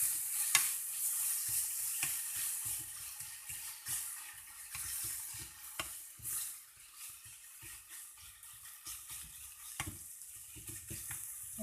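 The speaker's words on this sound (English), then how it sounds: "I'm adding oregano, basil, little bit of parsley to it, mixing it together" A spoon stirs oregano, basil and parsley into a simmering pasta sauce, with a steady bubbling sizzle throughout and occasional scraping strokes against the pan.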